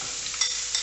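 Onions crackle and sizzle as they go into hot oil for a pumpkin soup, a short, steady frying hiss with a few small pops.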